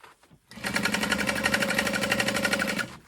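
A sewing machine runs steadily, stitching a seam on a crossbody bag at a stitch length of 4, starting after a brief pause and holding a fast, even mechanical rhythm close up for nearly three seconds before stopping.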